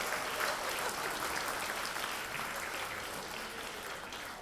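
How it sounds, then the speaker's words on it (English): An audience at the Longhouse 20th anniversary celebration gives a sustained round of applause, a dense, even wash of many hands clapping that stays fairly soft and slowly tapers, with no speech. "let's give ourselves all a big round of applause for being at the 20th anniversary"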